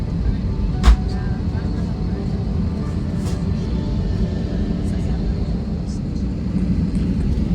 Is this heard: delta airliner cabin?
yes